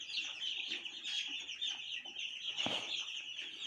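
Several broiler chicks about seven days old cluck and murmur continuously at close range in a poultry house, a busy chorus with one sharper squawk near the end; no talking.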